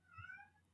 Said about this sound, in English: I'm sorry about the cat.